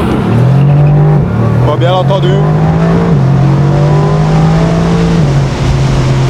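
A Mercedes-AMG GT R's 585 hp twin-turbo V8 rumbles loudly up close while accelerating. The deep engine note climbs and steps through gear changes as someone talks over it.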